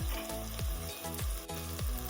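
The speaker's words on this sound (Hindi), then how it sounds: "बढ़िया से भून लीजिए।" Vegetables and dal fry in a pan for vegetable khichdi, giving a loud, steady sizzle with regular stirring swishes repeating through it.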